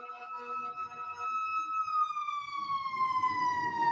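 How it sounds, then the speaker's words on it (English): Emergency vehicle sirens wail continuously, a steady tonal siren slowly dropping in pitch, moderately loud and clear, with faint rumble underneath. "You hear the sirens, Dre?"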